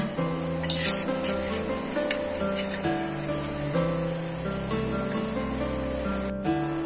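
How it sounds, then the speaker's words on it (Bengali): Palm fritters (taler bora) sizzling in hot frying oil, a steady close hiss with a low background hum and occasional soft clinks, no one speaking. "এবার আমি তেল থেকে এইভাবে ঝরিয়ে ফুলুরিগুলো তুলে নেব"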